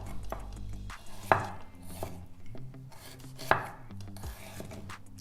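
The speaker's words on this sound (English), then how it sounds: "I'm just going to slowly peel my ginger with my knife" A knife scrapes and taps against fresh ginger on a cutting board in a home kitchen, with soft irregular strokes and two sharper knocks, close and fairly quiet with no talking.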